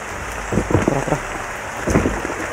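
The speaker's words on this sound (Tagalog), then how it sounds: "Tapos malakas pang ulan." Heavy rain pours down in a steady, dense hiss close by. Voices talk briefly over it twice.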